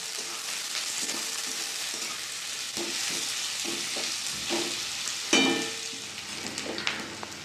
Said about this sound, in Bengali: কেটে রাখা পেঁয়াজগুলো দিয়ে দেবো তেলের মধ্যে। পেঁয়াজটা আমি হালকা লাল লাল করে ভেজে নেব।